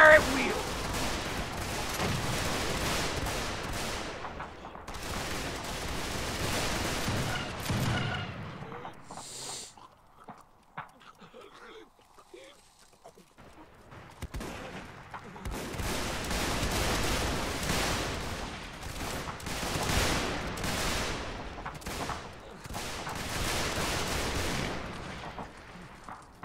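Musket volleys crack out in Mount and Blade Warband, dense bursts of massed gunfire rolling across a battlefield, pausing briefly for a quieter lull before more heavy, layered volleys resume.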